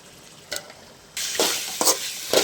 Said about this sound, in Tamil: இது 2 நிமிஷம் அப்படியே எண்ணெயிலே வதங்கட்டு